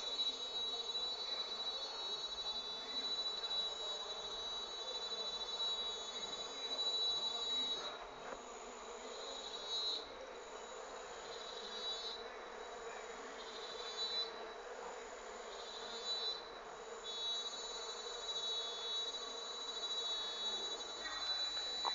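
Uruçu stingless bees (Melipona scutellaris) buzzing steadily around a feeding hive box, a continuous close high drone with a few louder passes as individual bees fly near, no talking.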